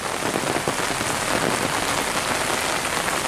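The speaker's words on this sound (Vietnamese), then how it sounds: "Trời quá mưa" Heavy rain pours down steadily, a dense, even hiss of drops striking a surface that stays loud and unbroken throughout, with no voices or other sounds over it.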